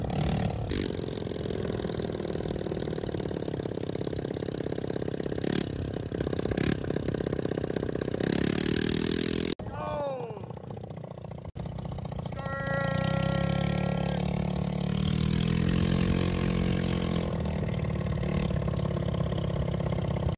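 A 150cc go-kart engine runs steadily through a test drive, with a loud buzzing drone that rises and falls as it revs, a brief dip and scrape midway, and voices talking over it.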